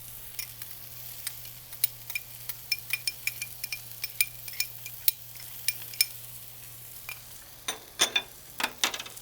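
Minced garlic and chopped onion cook on a flat-top griddle for kimchi fried rice, a soft steady sizzle under a low hum, punctuated by many sharp scraping taps of a metal spatula that grow busier toward the end.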